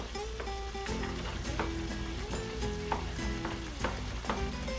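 Sweet potato sizzles in a pan of lumpia hubad filling while it is stirred. A steady frying hiss carries clinking utensil scrapes and bumps at close range.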